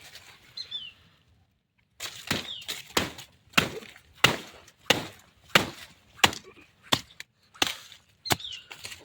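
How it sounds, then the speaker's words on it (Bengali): Repeated sharp chops from a blade cutting into a banana tree trunk, about a dozen loud close strikes in an uneven rhythm after a brief quiet start, with faint bird calls in the background. "চলো দুটো কলা গাছ কেটে নিই।"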